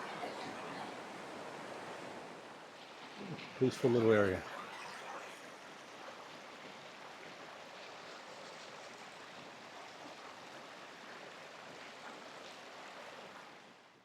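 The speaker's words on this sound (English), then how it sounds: "Got a fair flow of water happening at the moment." Flea Creek flows into the Brindabella River in a fair, steady rush, an even water hiss throughout with a brief spoken remark and a short burst of handling noise near the start.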